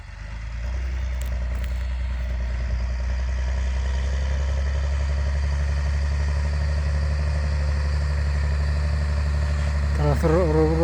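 A tractor engine runs at a steady low idle under light load while pulling a 24-row John Deere seeder, a continuous close rumble with no talk over it.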